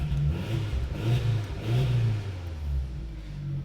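An Audi TT engine runs and revs in a few rising and falling surges, a close, moderately loud mid-pitched roar with no talk over it.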